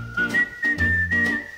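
A person whistles a short melodic tune on a street, clear and close, with several sustained notes in one phrase and no talking.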